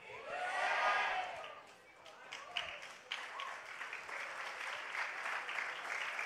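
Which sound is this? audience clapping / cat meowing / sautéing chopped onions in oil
audience clapping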